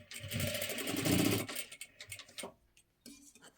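A sewing machine runs a short burst of rapid needle stitching, double-stitching blouse fabric, loud and close for about a second and a half before stopping, followed by faint handling clicks.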